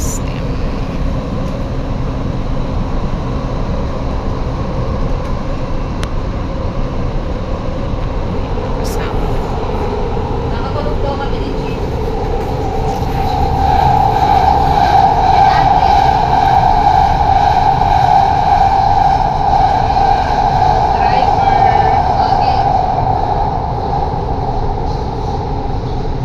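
Rumbling passenger train ride to Katara, with steady low rolling noise and a louder stretch of wheel and track hum partway through, heard from inside the carriage while people talk over it.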